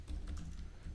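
Brief, quiet burst of typing on a computer keyboard, a few soft key taps close by with no voices.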